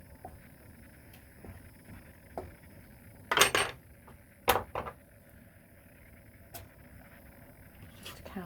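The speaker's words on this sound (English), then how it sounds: "I'll stir the pan with my other hand to try not to throw it on the floor" Mince cooking in a pan is stirred, with a few clinks and scrapes of a utensil against the metal over a low sizzle, quiet and close.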